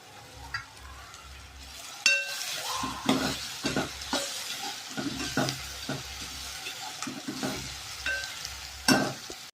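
Chicken sukka is stirred in a frying pan, the spoon scraping and tapping the pan in irregular strokes over a soft, steady sizzle, close up with no voices.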